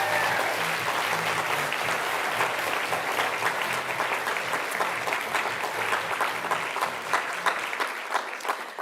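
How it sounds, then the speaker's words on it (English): Sustained applause from a large audience at an awards grand final, steady and dense throughout with no voices over it. "please give a very large round of applause"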